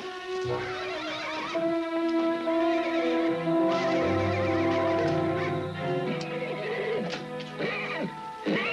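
Horses whinnying inside a stable, a long loud neigh with rising and falling pitch that carries over several seconds, joined by further agitated horse calls near the end.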